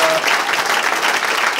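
Audience applause from a crowd at a talk, a dense steady patter of clapping heard up close and alone.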